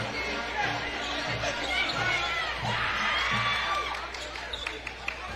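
Crowd noise fills a packed high school boys basketball gym during a Richland Bombers vs. Kamiakin Braves game, a steady roar of chatter and cheering with sneaker squeaks and ball bounces throughout.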